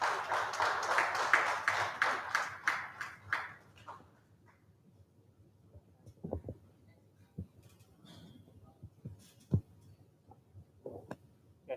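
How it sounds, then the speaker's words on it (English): An audience at a regional competition event applauds in a burst of dense clapping that fades after a few seconds, leaving scattered faint knocks and shuffles. "Round of applause, please."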